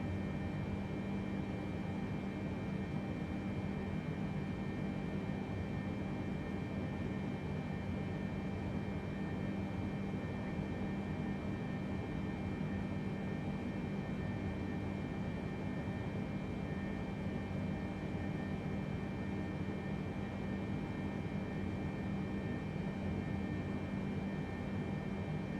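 PMDG 737-800 in Microsoft Flight Simulator climbing away after takeoff, a steady, even roar of jet engines and airflow that holds unchanged throughout, with no voices.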